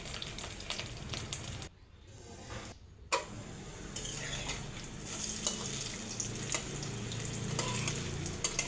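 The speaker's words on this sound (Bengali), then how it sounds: "তেলটা ভালো করে যখন গরম হয়ে যাবে, এবার বড়াগুলো ভেজে নেব।" Lentil fritters (bora) fry in hot oil with a continuous close crackling sizzle, briefly dipping quieter for a moment before returning full and steady.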